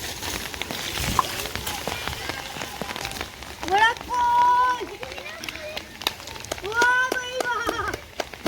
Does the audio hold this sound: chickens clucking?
no